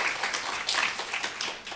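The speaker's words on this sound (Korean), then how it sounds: "박수로 한번 환영하고 축복." A church congregation at a Korean youth worship service claps briefly in dense, moderately distant applause to welcome a pastor.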